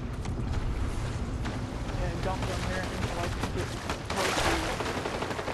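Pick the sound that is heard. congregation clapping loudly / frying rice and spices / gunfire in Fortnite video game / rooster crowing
gunfire in Fortnite video game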